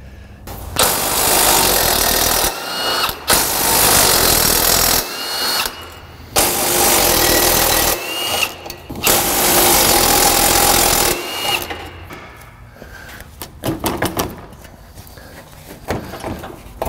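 A power tool spins out 16 mm bolts during front end removal on a Mini Cooper S (R56), in loud, sustained close runs broken by brief gaps, then quieter scattered clatter and clicks toward the end.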